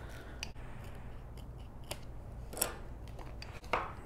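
Quiet scissors snipping off excess paper while folding a handmade recipe album page, a few short crisp cuts spread unevenly over a soft background hum.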